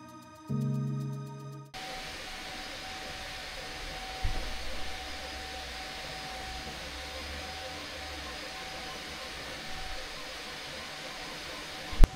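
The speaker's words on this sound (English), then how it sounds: "the printers are finally running" A room of 3D printers running together in a print farm, giving a steady broadband whir with a faint constant tone, brief clicks and knocks, and a louder beeping stretch at the start.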